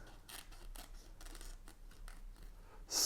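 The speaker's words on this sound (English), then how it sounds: "sculpt our Strelitzia with a pair of scissors" Scissors trimming the leaves of a Strelitzia flower, a series of crisp, quiet snips spaced about half a second apart, close by, with a louder rustle at the end.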